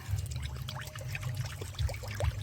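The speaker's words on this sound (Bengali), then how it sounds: "সেরা করার জন্য জল দিয়ে দিচ্ছি" Water being poured into a pot to make sugar syrup for rose cakes, a close, continuous trickling pour with gurgling bubbles, steady and fairly loud throughout the brief moment, no talking.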